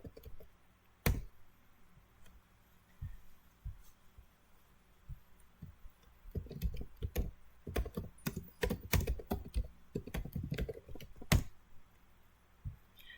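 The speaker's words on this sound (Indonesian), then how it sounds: "Kita dengan mengetikkan Ctrl F dan cari proses explorer." Keystrokes on a computer keyboard, sparse single taps at first and then a denser burst of fast clicking with a few louder strikes, close and fairly quiet with no talking.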